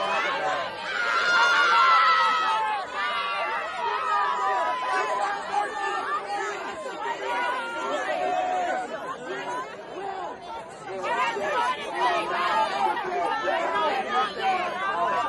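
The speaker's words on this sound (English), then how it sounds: "There is a lot of people out there all shouting at Charlie Kirk" Crowd of college students shouting at Charlie Kirk, a loud, dense mass of overlapping yelling, chatter and jeering voices that continues throughout, with occasional louder shrieks and laughter.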